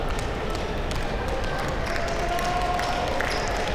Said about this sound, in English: And the two teams clapping to each other